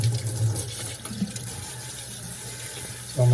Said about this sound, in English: you're just going to take your water and you're just going to squirt it.